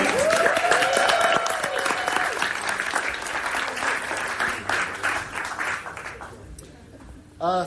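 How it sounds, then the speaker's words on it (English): Warm audience applause welcoming speaker Danny Dorling at a Sunday Papers talk, a full crowd clapping steadily with a voice over it early on, then thinning and fading to near quiet before a brief final burst. "could we please give a very warm Sunday Papers welcome to Danny Dorling with some applause starting in here"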